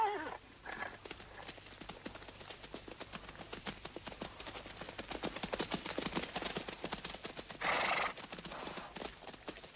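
Horses being led away: steady clip-clop of hooves on hard ground throughout, with a loud nearby neigh at the start and another whinny near the end, plus brief low voices in the background.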